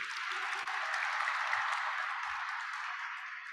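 Steady applause from a dinner audience at an awards evening, dense and even clapping filling the room from start to finish with no voices over it.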